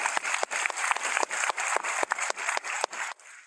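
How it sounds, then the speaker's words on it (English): Graduation audience at an adult education and literacy program giving a round of applause, steady clapping in a hall that rises and falls in bursts before tapering off at the end. "So can we please give them a round of applause?"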